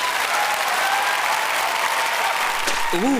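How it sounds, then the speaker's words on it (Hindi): A crowd claps loudly and continuously, a dense wash of applause that holds steady throughout, with a brief musical flourish near the end. "तो दोस्तों, बाजीगर आर्ट और लैंगली के लिए एक बार जोरदार तालियां हो जाएं"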